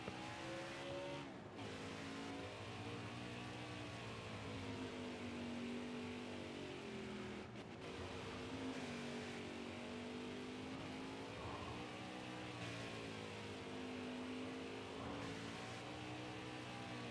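A race car in a NASCAR Xfinity Series racing game at Charlotte Motor Speedway holds a long steady engine roar for a burnout, pitch wavering and rising as it revs, faint and continuous with no talking.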